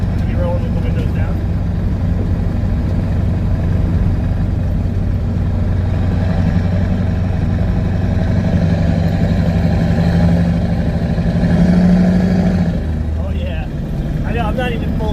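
The CAT 3208T diesel of a medium-duty truck, heard from the cab, drones deep and steady while accelerating at part throttle, swelling briefly toward the end, with someone talking over it.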